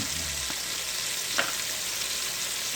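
Vidalia onions sauté in melted butter in an Instant Pot, a steady, even sizzle with a couple of faint stirring clicks and no talking.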